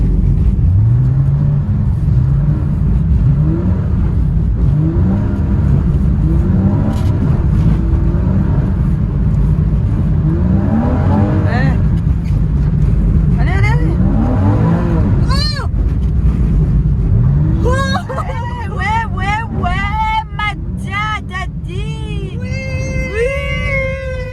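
A Porsche engine revs and roars continuously up close while tires squeal in sharp bursts as it drifts, with some voices mixed in.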